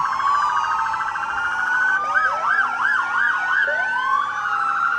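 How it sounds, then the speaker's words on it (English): Ambulance siren from Grundy Center ambulances in a festival parade, loud and close, wailing steadily and then switching to a rapid yelp before returning to the wail. "Got the Grundy Center ambulances here."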